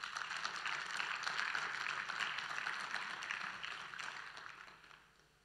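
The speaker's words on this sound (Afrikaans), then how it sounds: "Ons sal al drie hierdie sissies 'n hartlike hande klap gee." A church congregation applauds warmly, a dense, steady wash of many hands clapping together that holds evenly before tapering off at the end.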